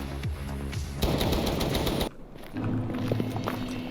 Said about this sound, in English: They were no match for a full metal jacket bullet travelling barely below the speed of sound.